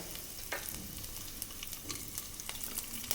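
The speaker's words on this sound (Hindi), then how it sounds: "इसी ऑयल में 1/4 टीस्पून हम ज़ीरा डाल देते हैं।" Cumin, nigella seeds and broken red and green chillies sizzle in hot oil for a Bengali rohu fish curry, a close, quiet, steady crackle sprinkled with sharp pops.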